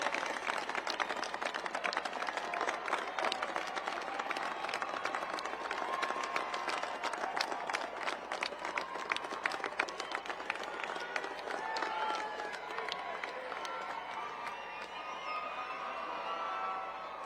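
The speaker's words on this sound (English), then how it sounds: "Stand up and give them a round of applause." Air Force Academy graduates applaud at their commencement ceremony, a dense, steady roar of many hands clapping that holds for a long stretch before easing slightly toward the end, with crowd noise mixed in.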